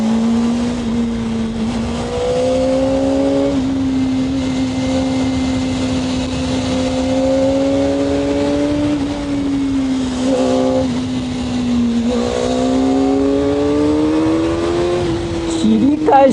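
Kawasaki ZX-4R motorcycle engine revving up close and loud, a sustained high tone whose pitch climbs and falls with the throttle, with a voice heard faintly over it at times.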